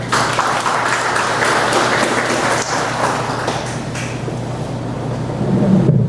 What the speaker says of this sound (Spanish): y para quien pido un fuerte aplauso